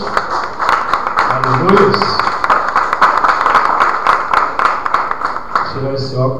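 A church congregation applauds during an evening service with a steady patter of many hands clapping, while a preacher's voice and some singing carry over it.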